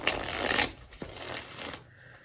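Oracle cards being shuffled by hand, a close papery riffle in two short bursts with soft flicks, ending quietly.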